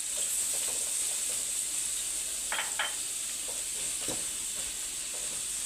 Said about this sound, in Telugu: క్యారెట్ని వేసుకొని బాగా మిక్స్ చేసుకోవాలండి